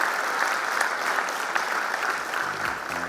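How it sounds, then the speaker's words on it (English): Applause from a conference audience at GFF 2024 for a banking speaker: a dense, even wash of many hands clapping that holds steady for about three seconds, thinning slightly near the end. "So big round of applause for you, Mr. Vaidyanathan."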